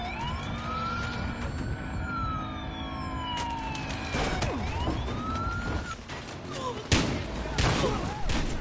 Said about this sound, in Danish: når du kører en bil med sirene